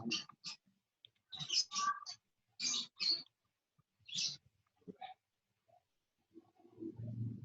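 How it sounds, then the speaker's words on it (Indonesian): Birds chirp in short, scattered bursts nearby, some sharp and clicky, with quiet gaps between calls. "Di rumah Adita banyak burung ya."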